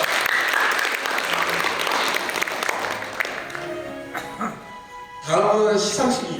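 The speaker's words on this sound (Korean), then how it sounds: "다시 한번 박수 부탁드리겠습니다." An audience applauds at a student reporter graduation ceremony in Yongin, with steady clapping that fades as a voice speaks over a microphone, then a brief swell of clapping returns.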